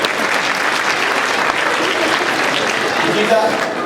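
A dense, steady burst of audience applause at a physics science show in Germany, cheering on a volunteer, sustained and close for several seconds.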